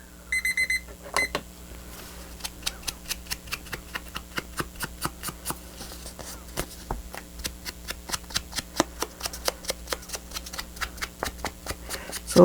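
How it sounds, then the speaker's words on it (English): A timer alarm rings with a short burst of rapid electronic beeps at the start, followed by a long series of regular crisp ticks or taps, close and alone. "Oh, there goes our timer."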